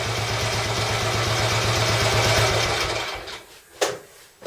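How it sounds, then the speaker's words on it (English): Royal Enfield Bullet 350 single-cylinder engine settling into a steady, loud idle after a kick start, with an even thumping tick-over that cuts out near the end, followed by a couple of sharp clicks. "one kick without touching the throttle at all, and it fired up and just settled into a nice tick over"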